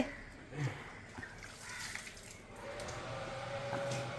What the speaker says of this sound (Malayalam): ആ വെള്ളം വീഴുന്നുണ്ട്.